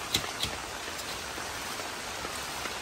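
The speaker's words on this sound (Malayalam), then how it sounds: "നല്ല മഴ കേട്ടോ, എന്നിട്ടും പോലെ അത്യാവശ്യം പണിയെടുക്കുന്നുണ്ട്." Heavy rain falls on a house construction site, a steady, even hiss of downpour with a few sharp drips near the start, no voices.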